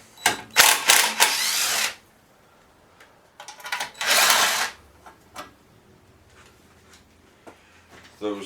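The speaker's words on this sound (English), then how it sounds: "Should be able to get those 2 8mm bolts out of there now." Two bursts of rapid mechanical clatter, likely a ratchet or driver, loosen a pair of 8mm bolts on an old MTD (Mastercraft) snow blower. Each burst lasts about a second and a half, close and fairly loud, with quieter tool handling between them.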